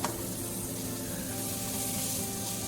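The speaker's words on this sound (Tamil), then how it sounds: "இப்போ கட் பண்ணி வச்ச புதினா, மல்லி எல்லாத்தையும் போட்டுடலாம். போட்டுட்டு ஒரு டைம் நல்லா வதக்கி விட்டுருங்க." Green chillies, mint and coriander leaves sautéing in hot oil for chicken biryani, a continuous close, loud sizzle with a sharp hiss at the start and a faint stirring texture, no voices.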